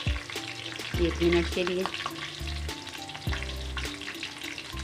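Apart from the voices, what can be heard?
okra (bhindi) frying in a pan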